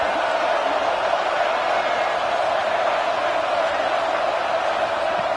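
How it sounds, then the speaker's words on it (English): Steady, dense roar of a big stadium crowd cheering in the College Football 26 video game, an unbroken wash of noise with no distinct voices. "Listen to the crowd energy here in the early going."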